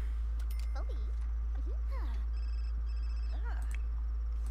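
A telephone rings in The Sims 4 with repeated electronic chirping tones, heard alongside chattering game voices over a constant low hum.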